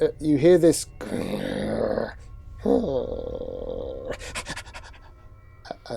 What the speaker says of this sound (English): that's all you get is a sort of intense high panting